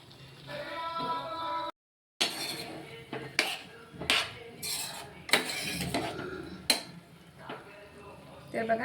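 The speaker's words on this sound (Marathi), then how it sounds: "तर छान मस्त सगळं मिक्स करून घेऊया." A spoon clinks and scrapes against a pot while salt and turmeric are stirred into ridge gourd curry, giving repeated close metallic knocks and scrapes with a short pause partway through.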